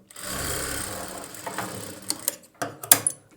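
Sewing machine stitching a boat-neck blouse, a short rapid mechanical run of the needle followed by several quick stop-start bursts and clicks.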